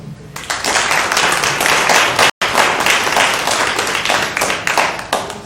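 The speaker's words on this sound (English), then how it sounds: "Clap if you liked it." Audience clapping at a resident forum, a dense, loud burst of many hands filling the room for several seconds, with a brief gap in the middle before the applause resumes and slowly thins.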